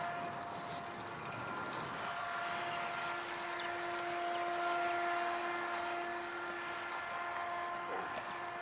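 An E-flite F-15 radio-controlled model jet with an electric ducted fan flies past at speed, giving a steady, sustained high whine with a constant tonal hum over a broad rushing roar that swells slightly mid-pass.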